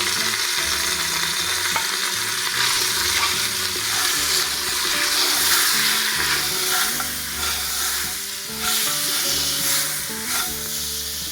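Chicken sautéing in a pan with turmeric, black pepper and other spices, a steady loud sizzle and crackle throughout, with scraping and stirring knocks from a utensil, no talking.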